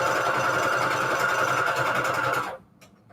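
A sewing machine in need of oil gives a loud, dry, rattling hum that runs steadily and then stops abruptly, leaving near silence.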